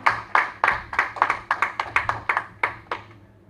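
A church congregation at a Sunday service claps together in rhythmic unison as the preacher arrives, about fifteen crisp, evenly spaced claps over a low hum, fairly close, slowing near the end.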